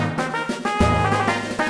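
A brief synthesized trumpet melody from the Pokemon Ruby and Sapphire video game: a few bright, buzzy, chiptune-like brass notes over a low backing, close and moderately loud.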